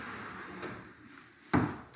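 One of a pair of sliding closet doors in a renovated barn apartment in Colorado, giving soft rolling scrapes and then a single sharp knock as the panel hits its stop, close by and with no voices.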